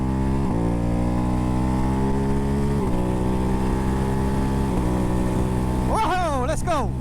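Ducati Hypermotard 698 Mono single-cylinder motorcycle riding with a loud steady exhaust drone, punctuated by a few sharp pops and bangs on the overrun and ending in quick revving shifts.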